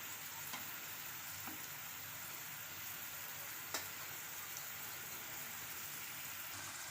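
Malvani-style potato slices shallow-fry in a little oil, giving a soft, steady crackling sizzle at low volume with an occasional faint tap, and no one speaking.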